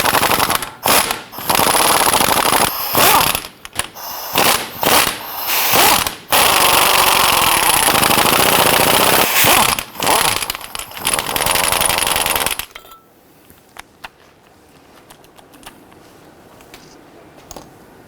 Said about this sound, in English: And we're going to remove the Allen bolts on the rear of the front drive shaft first.